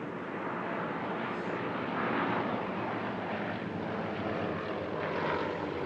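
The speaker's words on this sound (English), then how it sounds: "The Yakovlevs have been a well-known team on the European airshow circuit for decades, usually flying with four aircraft." A Yakovlev propeller aircraft of a display team flies at the Air Legend airshow in Paris-Villaroche, a broad, rumbling engine drone that swells and fades gently as it passes at a distance.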